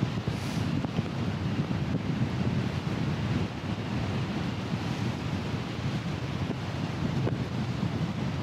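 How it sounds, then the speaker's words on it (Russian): Strong gusty wind buffeting the microphone while riding a bicycle outdoors, a dense continuous low roar that stays loud and close throughout, with no talking. "Дует сегодня прям мощно."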